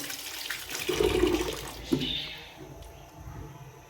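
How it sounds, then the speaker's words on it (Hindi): Running water from a tap while chopped spinach is washed in a kitchen, a near splashing rush that swells in the first two seconds and then fades to a faint trickle. "अब हम पालक को वॉश करेंगे।"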